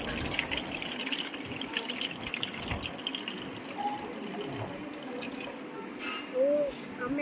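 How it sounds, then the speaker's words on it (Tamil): Water poured into a container in a home kitchen while making french fries, a steady low trickle and splash running throughout with a few faint clinks, fairly quiet. "இப்போ வந்து தண்ணி ஊற்றிக்கலாம்."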